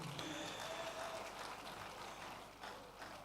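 An audience at a digital empowerment event applauds for Engineer Seyi Makinde, a faint, distant wash of clapping that continues steadily through the moment in a large room.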